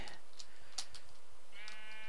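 Sheep in a Minecraft-style video game bleat twice in short, bright calls over continuous game background noise, fairly close and clear.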